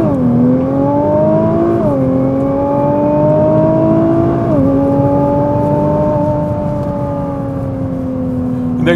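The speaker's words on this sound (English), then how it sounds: "We're going to mash the brake, mash the accelerator." A 2017 Nissan GT-R launching in race mode, its engine note climbing hard through rising pitches with brief dips at each gear change, loud and continuous throughout.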